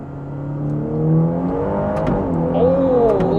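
A Ferrari Roma engine revs up under acceleration with a little rear wheel spin, a loud, deep, smooth drone rising steadily in pitch and heard from inside the car, with no talking.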